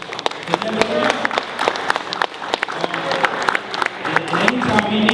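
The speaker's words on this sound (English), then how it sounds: "Can everybody get this brother applause?" Loud audience applause mixed with crowd noise and some cheering at a talk-show gathering, with dense clapping and sharp individual claps while voices call out over it.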